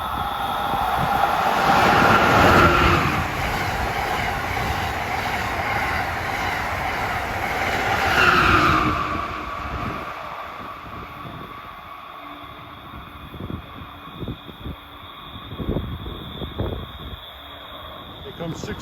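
Amtrak train 133 from New York to Washington rushes past a New Jersey trackside with a loud sustained roar and a wheel squeal, then fades into rhythmic clickety-clack of wheels over rail joints as cars roll by, with a voice speaking over it.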